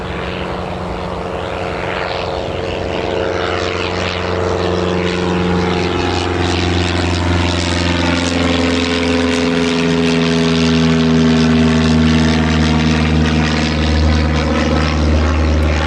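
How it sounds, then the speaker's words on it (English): A propeller airplane takes off at Newcastle Airport, its engine droning loudly and steadily throughout, with a rising and shifting tone as it accelerates and climbs away. "A little bit of a wobble, but nice takeoff there, all in all."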